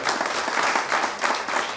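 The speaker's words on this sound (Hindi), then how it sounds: "बहुत तेज तालियों की आवाज" An audience at a community welcome ceremony applauds, giving a steady, dense stretch of many hands clapping in rhythmic waves at moderate volume.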